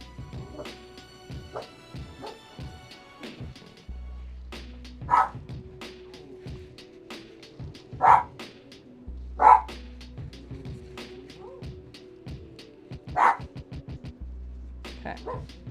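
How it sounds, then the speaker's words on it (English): Dogs bark indoors in a home kitchen during cooking, with several loud, sharp bursts spaced a few seconds apart over a low background hum. "My dogs think someone is here."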